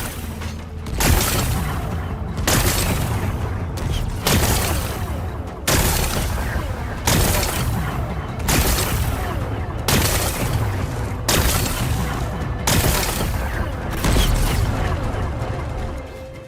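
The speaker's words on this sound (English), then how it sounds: "Gotta blast away some rocks, so I can expose the power cell." Repeated heavy explosions blast rocks apart in the video game Horizon Forbidden West, roughly a dozen booming bursts in a steady sequence over a continuous low rumble.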